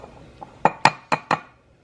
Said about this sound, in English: I'm cracking the eggs.